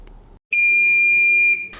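A loud, steady electronic beep tone from an Alientech KESS3 Dynodrive test, lasting about a second, clear and high-pitched, following a short stretch of quiet background noise.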